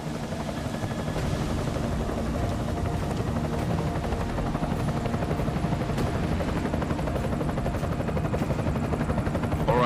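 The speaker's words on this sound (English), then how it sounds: "Enemy helo sighted." An enemy helicopter in the video game Deus Ex: Mankind Divided drones steadily and loudly for the whole stretch, a dense rotor roar that holds an even level with no talk over it.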